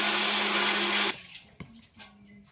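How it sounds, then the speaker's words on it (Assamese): An electric mixer grinder runs loudly, chopping onions with a steady high whine, then cuts off abruptly after about a second, leaving light clatter and handling noises. "গোটেই পিঁয়াজ হেৰিখিনি পিচি পেলাব নি?"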